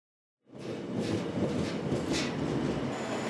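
Korean train on the Donghae line to Yeongdeok rumbling along the rails, silence breaking into a steady close clatter and roar with faint wheel squeal.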